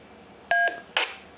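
Two short keypad beeps from a Wouxun KG-UV920P mobile radio during remote-control keypad entry, close and clear, the second a brief moment after the first, with no talking.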